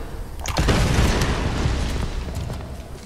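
A deep booming explosion blows open a door in the video game Tomb Raider, then a sustained low rumble lingers and slowly fades for a few seconds.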